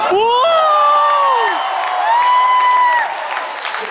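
A concert audience at a show in England cheers loudly, with shrill rising and falling whoops over a dense crowd roar that fades slightly toward the end.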